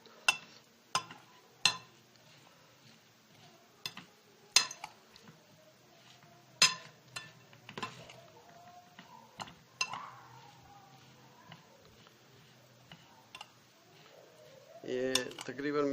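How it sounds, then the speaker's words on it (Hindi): A spoon mixes cut fruit chaat with masala in a bowl, giving scattered sharp clinks and taps against the bowl with quiet stirring between, while a person talks throughout. "और इसको यूं मिक्स करना है पहले, ताकि सबके साथ ये मसाला लग जाए।"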